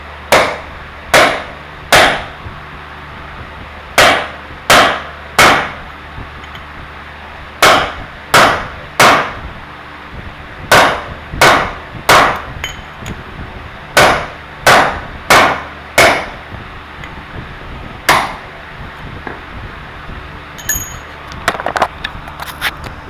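Hammer blows drive rivets out of a Cub Cadet ring gear resting on a block of wood, sharp metallic strikes in irregular pairs and clusters, loud and close, with brief pauses between groups.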